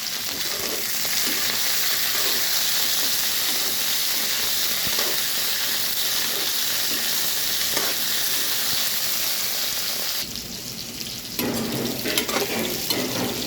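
Okra frying in hot oil for a tamarind curry, a loud steady sizzle and hiss close up that runs throughout, briefly dipping then resuming with stirring.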